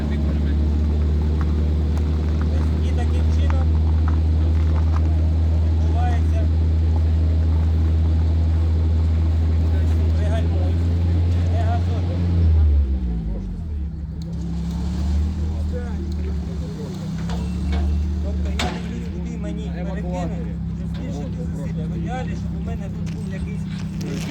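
A car engine drones loudly at raised revs during towing in a yard, then drops sharply and settles to a lower idle, with people talking over it.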